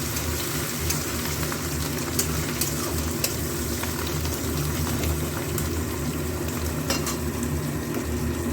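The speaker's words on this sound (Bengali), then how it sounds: "কারি পাতাটাও একটু ভাজা ভাজা করবো পেঁয়াজের সাথে।" Curry leaves frying with onion in a pan for upma, a steady dense sizzle and crackle with occasional stirring clicks, close and continuous without any talking.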